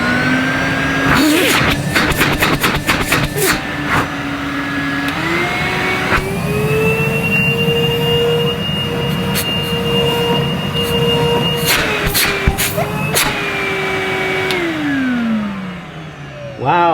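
A factory-sealed 2006 Numatic Henry vacuum cleaner runs on its low suction setting, a steady, close motor whine that climbs in pitch partway through, holds, then winds down near the end.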